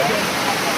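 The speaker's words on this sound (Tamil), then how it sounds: "இப்போ கடைசி ஃபால்ஸுக்கு வந்துட்டோம். பயங்கரமான வாட்டர்." Rushing water pours down the last falls of Courtallam in a steady, close, broadband roar that fills the brief moment without a break.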